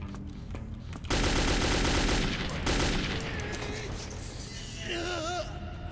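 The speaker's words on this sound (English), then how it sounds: "Someone sounds like he has a sniper of some sort. It's some sort of pneumatic weapon," Gunfire from a pneumatic sniper weapon in the video game Metro 2033: a loud burst of shots over a dense bed of game noise, with fainter firing and tonal effects continuing afterward.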